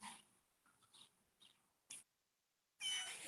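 A cat meows a few times nearby, short soft cries followed by a louder, longer meow at the end.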